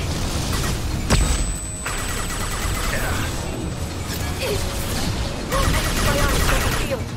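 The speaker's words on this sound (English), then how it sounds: "Watch out! Flashbang!" A flashbang grenade goes off in a Mass Effect 2 firefight with a sharp bang. Bursts of gunfire and combat noise continue around it, and voices call out during the fighting.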